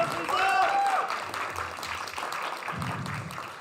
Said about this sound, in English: we just gave a round of applause for Mooj